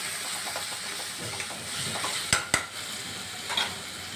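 Soaked peanuts are stirred in oil in a pan while making sambar, giving a close, steady sizzle with scraping spoon strokes and a couple of sharp metallic clinks against the pan.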